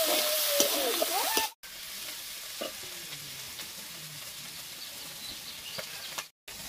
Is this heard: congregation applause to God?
no